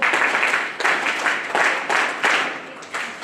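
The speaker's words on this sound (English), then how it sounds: "you need to actually clap like this" Graduation-day audience at a pre-university college clapping on a countdown, bursts of hand claps pulsing in uneven groups rather than one unified clap, fairly loud and close, no talk over it.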